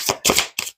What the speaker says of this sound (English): let's put them back because I want to shuffle them.